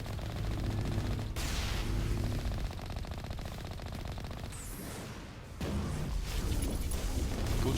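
Sustained rapid gunfire from a Mass Effect 1 firefight, loud and dense throughout, with bursts and automatic fire overlapping and a short dip before the shooting surges back.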